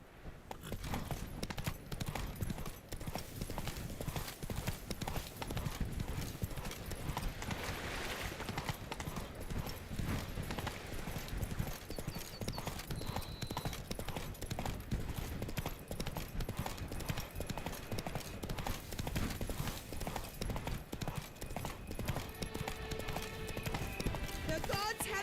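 A horse in Witcher 3: Blood and Wine gallops with an unbroken, driving clip-clop of hooves that stays steady and close for the full length, with occasional voices over it.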